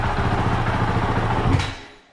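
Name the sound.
Honda CRF450RL motorcycle engine running after starting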